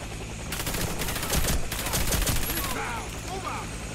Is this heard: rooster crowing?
no